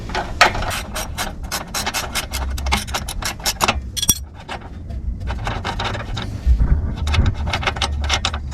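Someone works a ratchet tool to remove a clamp on a Mazda RX7 FD, with rapid clicking pawl bursts and metallic rubbing, a short pause in between, then more clicking.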